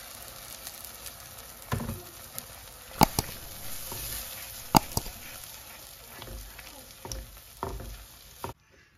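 An egg dropped into cooked tomato in a frying pan while making egg bhurji sizzles steadily, with scattered clicks and stirring knocks close by.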